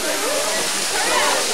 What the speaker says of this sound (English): Let's get the waterfall.